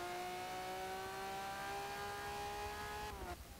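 A Lamborghini engine in Forza Motorsport 7 revs steadily at high pitch in a sustained whine, then drops off abruptly near the end, heard alone and fairly quiet.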